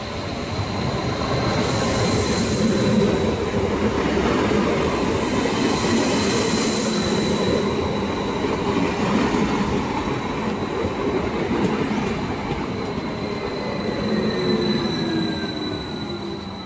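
A regional multiple-unit train on Norway's Bergen Line rolls in loudly with a steady rumble of wheels on the rails and a sustained high squeal, alone without voices.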